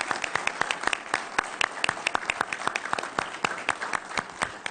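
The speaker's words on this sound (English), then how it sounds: "I want to give a round of applause to the candidates." An audience at a Shreveport mayoral forum applauds the candidates, with steady close clapping running throughout, sharp individual claps standing out over a dense wash of hands.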